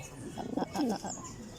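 Pigeons in a loft give a soft, brief cooing call, low and moderately close, over a faint background hum.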